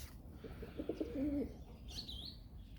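Pigeons cooing softly, a short low rolling coo in the middle, followed by a brief higher chirp over faint ambient background noise.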